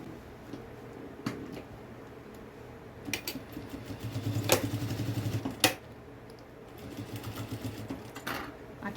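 A sewing machine stitching a backpack seam, quiet short bursts of rapid needle clatter building to a longer run of stitching in the middle, then tapering off.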